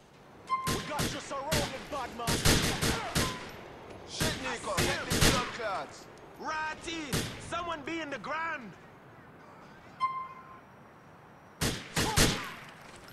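A run of sharp gunshots from Grand Theft Auto IV, fired in short bursts of several quick, loud cracks with pauses between them, while a voice talks in the middle stretch and two more isolated shots follow near the end.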